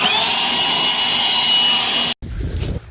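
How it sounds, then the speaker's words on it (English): Loud continuous rushing blast of compressed air with a high whine as dust is blown off a combine harvester, cutting off abruptly near the end, followed by quieter low rumbling. "I'm blowing the combine off right now."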